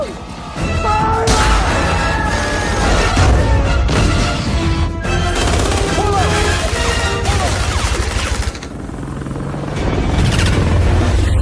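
A .50 caliber machine gun firing in a chaotic action-movie helicopter fight at the White House, loud dense gunfire layered with rotor noise, crashes and metallic clatter, with shouting voices mixed in.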